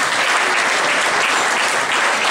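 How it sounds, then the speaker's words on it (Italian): Loud, dense audience applause in a hall, a continuous wash of many hands clapping at close range with no pause. "E intanto ancora un applauso per zio Carmine e per il suo lavoro."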